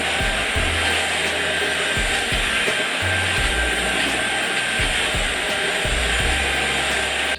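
An LG CordZero A9 (A970) cordless stick vacuum fitted with its wet-mop kit runs steadily and loud throughout, a constant whirring motor drone with slight low rumbles shifting as the head moves.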